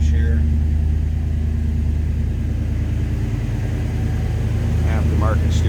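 A 1986 Chevrolet K10 Scottsdale 4x4 pickup idles with a steady, loud low rumble. Talk comes in near the end over the engine.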